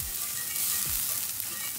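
Mushrooms fry in a hot pan with olive oil, giving a dense, steady sizzle and crackle close by, with no talking.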